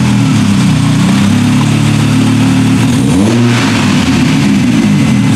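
An Audi engine on a dyno drones loudly and steadily at high revs, a constant mechanical roar that dips and climbs again midway through.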